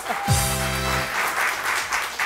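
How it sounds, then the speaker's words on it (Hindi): A studio audience on a Pakistani morning TV show claps for guest Sanam Baloch, a dense sustained wash of applause that follows a brief tonal musical sting at the start. "ताली बजाए सनम के लिए फौरन"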